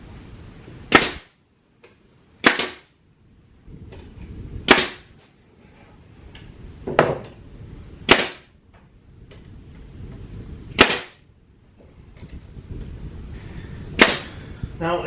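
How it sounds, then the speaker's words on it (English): A brad nail gun fires into plywood while a camper shelf is built: seven sharp, loud pneumatic shots spaced a second or two apart, each one followed by a brief rattle, with faint handling noise between them and nobody speaking. "we're going to get the brad nail gun and we're going to nail this plywood in too"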